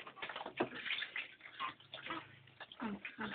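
Water poured over a baby during a bath, soft splashing bursts near and quiet, repeated irregularly, with adults talking throughout.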